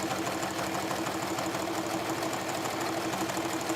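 A sewing machine stitches a jelly roll rag rug of coiled fabric strips with a jeans needle, running steadily and continuously at close range with a dense mechanical whir, no voices over it.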